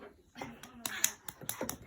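A small child claps indoors during play, a few sharp, uneven claps up close with talk in between.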